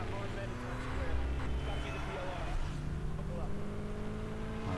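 A police car drives in Battlefield 3, its engine a steady low hum and rumble that rises slightly at moments, moderately quiet beneath someone speaking almost throughout.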